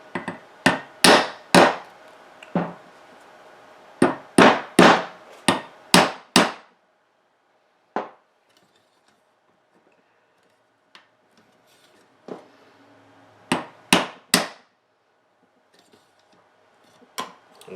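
Sharp hammer blows driving a Manticore Arms Renegade forearm onto an M92 rifle, loud and close, in quick bursts of several strikes separated by pauses, with a few lighter taps and small handling noises between.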